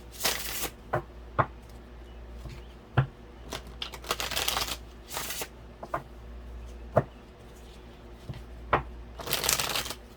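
A dark wood tarot card deck is shuffled by hand, with repeated close riffling bursts and sharp taps as the cards are squared and cut, in a quiet room.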